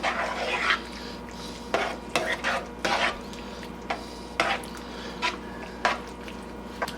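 Sour cream is stirred into a hot sauce in a pan, producing repeated wet scraping strokes and soft clinks of a utensil against the pot over a low simmering sizzle, close by and without talk.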